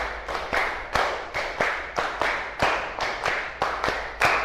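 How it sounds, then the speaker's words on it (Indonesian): A classroom of students claps together in rhythm, with about a dozen sharp, evenly spaced claps in short groups, loud and close, with no talking over them. "yuk kita tepuk-tepuk dulu biar lebih semangat lagi"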